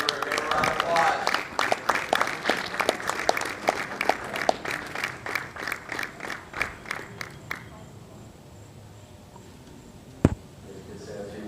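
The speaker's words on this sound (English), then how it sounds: "Give him a round of applause." An audience at the Miami Championships applauds the champion Jorge Cabero of Peru with a loud burst of rhythmic, close clapping that dies away after about eight seconds, leaving a quiet room broken by one sharp knock.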